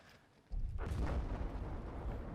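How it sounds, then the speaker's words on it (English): V1 rocket explosion in the video game Battlefield 5: a sudden heavy boom strikes after a brief quiet lead-in, then rolls into a loud, sustained rumbling roar. "It's called a V1 rocket, and it's got a pretty big flame."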